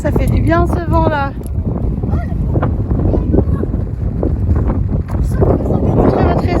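Strong mountain wind at Gréolières in the Alpes-Maritimes buffets the microphone with a constant roaring rush, while someone speaks briefly at the start.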